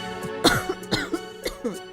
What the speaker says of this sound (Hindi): घर के अंदर से खांसने की आवाज आती है